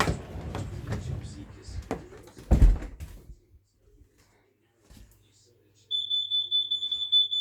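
Someone talks and moves about, then after a quiet gap a bedroom carbon monoxide alarm, set off with its test button, starts up with a shrill, high, rapidly pulsing beep that carries on strongly.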